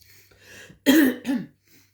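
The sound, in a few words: cough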